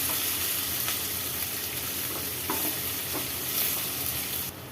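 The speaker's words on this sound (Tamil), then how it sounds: "இது நல்லா வதக்கிக்கலாம்." Finely chopped large onions with minced green chillies fry in a pan, giving a steady broadband sizzle with a few soft scrapes and stirring clicks, close and even throughout, with no voices.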